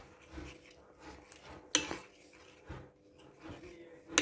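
A spoon clinks against a cup while powdered milk is stirred, a few sharp metallic taps and scrapes spaced across a quiet kitchen background.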